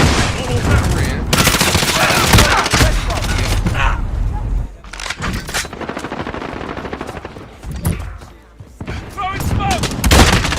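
Constant rapid gunfire in a shooter video game's hardpoint mode: dense automatic bursts and single shots crackle loudly, with brief pauses between exchanges and a player talking over the fighting.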